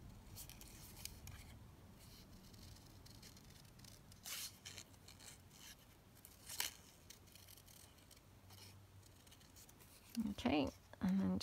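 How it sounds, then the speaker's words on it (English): Scissors snip through paper while cutting out a butterfly shape, giving soft, irregular cuts with a few sharper crisp snips near the end, over quiet room background and occasional talk. "Let's just cut out this butterfly."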